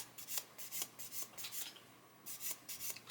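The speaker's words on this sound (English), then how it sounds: "I'm sanding at 45-degree angle." Short rhythmic scraping strokes of sandpaper held at a 45-degree angle rubbing a small model car wheel, close up, with a brief pause midway.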